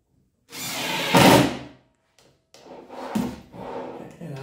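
Wooden drawer guide handled and fitted into a Shaker-style built-in cabinet, with a loud scraping, sliding knock followed by quieter rubbing and bumping of wood parts, close up and with no talking.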